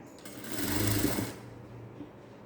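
A sewing machine runs a short burst of stitching on a 38-inch princess-cut blouse, its motor whirring steadily and close for about a second before stopping, with no voices.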